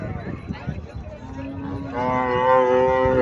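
A Sahiwal cow lets out a long, loud moo close by, preceded by some background chatter and shuffling.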